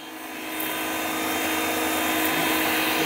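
A DEWALT DCPW550 cordless pressure washer power cleaner spraying on its high setting gives a steady, loud whining hiss with a motor hum, rising slightly at the start and then holding constant, with no talking.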